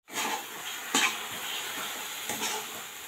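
Apple jam with sugar and cinnamon stirred in a pan, a soft continuous sizzle with scraping spoon strokes against the metal, two sharper clinks standing out, no talking.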